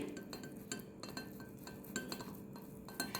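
Boiled potatoes are grated by hand in a kitchen, giving faint, quick rhythmic scraping strokes with occasional light knocks against the bowl or grater.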